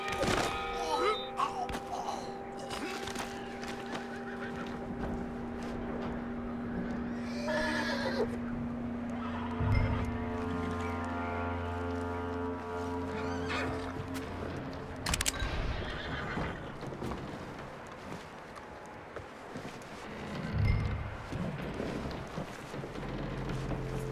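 A horse in Red Dead Redemption 2 whinnies loudly and repeatedly, with clip-clop hooves and thuds amid game ambience and a few distant voices.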